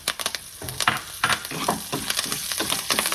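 Curry leaves and chillies frying in hot oil, crackling and sizzling in quick bursts with sharp pops spread over the whole stretch, close and fairly loud, no voices.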